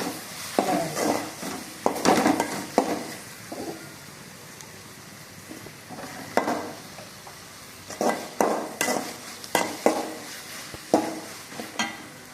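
Turmeric stirred into a coconut-milk fish curry in a pan, with repeated scraping and clinking of a spoon against the pan over a soft sizzle, close and intermittent across the stretch.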